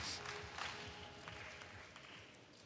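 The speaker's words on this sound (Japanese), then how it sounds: "場内からは三拍子の手拍子、ヒロムコールが行われています。" A wrestling arena crowd claps in a rhythmic triple beat for a wrestler, a distant, fairly faint mass of hands mixed with crowd noise.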